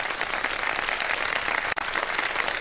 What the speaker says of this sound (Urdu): ذرا بہت ساری تالیاں تو بجا دیں ہمارے اسپانسرز کے لیے